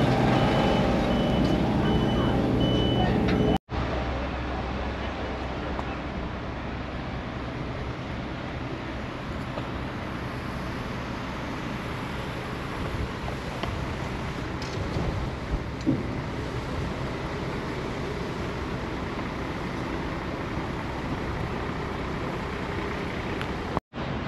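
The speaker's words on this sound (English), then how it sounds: "The trucks go everywhere." Trucks moving along a street in Malmö, Sweden, with a steady roar of heavy engines and traffic throughout and repeated reversing beeps sounding at moderate distance.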